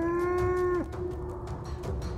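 A Baldur's Gate 3 minotaur lets out a loud, deep, cow-like moo that holds steady, then drops off into a quieter trailing grunt over low game ambience.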